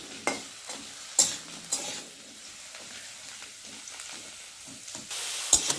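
Potatoes fry in hot oil for ghugni, giving a soft, steady sizzle broken by a few sharp clatters of a spatula against the pan, with no talking.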